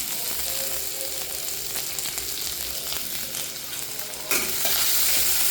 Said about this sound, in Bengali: তারপরে পেঁয়াজ কুচি দিয়ে দিলাম তেলের মধ্যে, লঙ্কা কুচি দিয়ে দিলাম